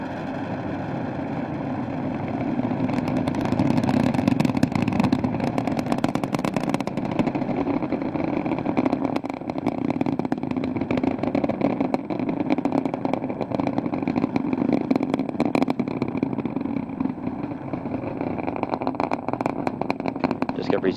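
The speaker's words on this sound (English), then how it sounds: "Engines are now throttling down as the orbiter passes through the area of maximum pressure, reducing the stress on the shuttle as it goes supersonic." Space Shuttle Discovery's rocket engines roar steadily during launch ascent on its final flight, STS-133, a loud continuous rumble throughout, with a commentator's voice audible over it.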